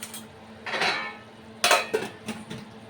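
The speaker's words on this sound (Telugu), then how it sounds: "ఇది కలుపుకుందాం మంచిగా ఆయిల్ సపరేట్ అయ్యేంత వరకు కలుపుకుందాం" A spoon stirs cumin powder into oil in a metal cooking pot, with a few separate scraping strokes and sharp clinks against the sides, close and fairly quiet with no talking.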